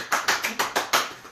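A handful of sharp hand claps, about six in a steady quick rhythm, close and fairly loud, that come across as a thin imitation of an uproarious applause.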